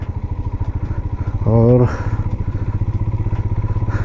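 A motorcycle climbs a muddy mountain road toward Razdan Pass on a Ladakh journey, its engine pulsing in a steady rapid rhythm close to the rider. Someone speaks briefly partway through.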